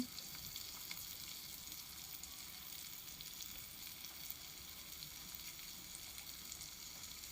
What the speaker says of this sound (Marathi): कांदा आणि टोमॅटो टाकलेला आहे तेलामध्ये